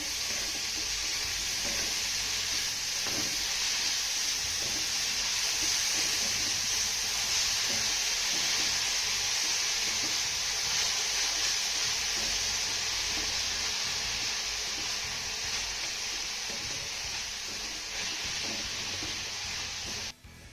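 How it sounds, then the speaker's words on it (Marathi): Chopped fenugreek leaves sauté in a pan with a continuous bright sizzle, punctuated by soft ticks from stirring, lasting about twenty seconds before cutting off abruptly at the end. "यामध्ये आपल्याला चिरलेली मेथी घालायची आहे त्यानंतर ही मेथी आपल्याला दोन मिनिटं छान अशी परतून घ्यायची आहे"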